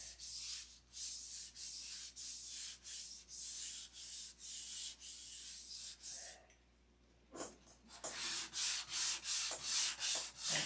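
Wood being hand sanded for a finish, a steady rhythmic back-and-forth rasping of strokes, close and moderately quiet, with a brief pause before the strokes resume faster.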